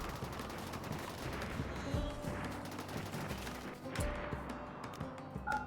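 Mortars fire in the colony-building video game RimWorld: two sharp distant booms about two seconds apart over a steady low battle ambience, with no talk.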